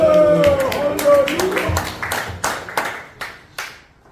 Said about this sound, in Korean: 형의 영광의 박수 드리겠습니다